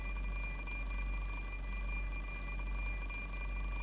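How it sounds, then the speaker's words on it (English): An alarm clock rings in a steady, unbroken electronic tone, faint and constant throughout with no other sounds. "What kind of machine makes a noise that seems like its whole purpose is to remind you that you're late?"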